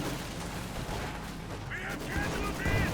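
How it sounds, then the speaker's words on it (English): Battle gunfire and explosions from a Company of Heroes 2 grenade assault, a dense rumbling barrage of shots with sharper bursts near the end, loud and continuous with no talk. "Finally a grenade assault"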